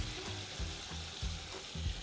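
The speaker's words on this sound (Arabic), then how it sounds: "أنا عايزاه هنا يتشوح كله مع بعض" Chicken and chopped green onion sautéing together in a pan for a quick kabsa, a low steady sizzle with rhythmic, repeated stirring scrapes about every half second, close by and with no talking.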